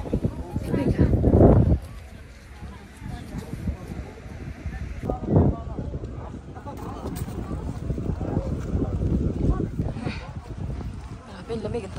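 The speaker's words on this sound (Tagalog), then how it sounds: "Ang lakas ng hangin." Strong, gusty wind buffets the microphone outdoors at a hilltop monastery site in Armenia, roaring in loud bursts near the start and around five seconds, with people talking under the constant rush.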